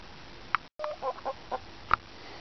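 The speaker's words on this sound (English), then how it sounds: "What's up, Big Rooster?" A free-roaming rooster at an off-grid RV homestead gives a handful of short, separate clucks over about two seconds, fairly close and clear against quiet outdoor background.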